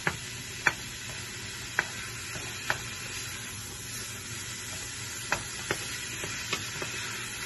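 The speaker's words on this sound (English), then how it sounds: "let all of the meat brown and the onions saute" Ground meat and onions browning in a pan for lasagna keep up a soft, even sizzle, while a spoon scrapes and taps the pan every second or so. No one talks.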